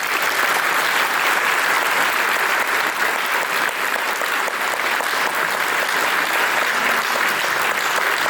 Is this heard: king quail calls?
no